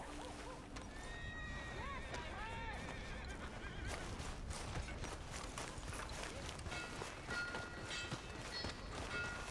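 In the Red Dead Redemption 2 video game, a horse whinnies with rising and falling calls and then hooves clop and rustle close by, with a voice speaking at moderate level over the scene.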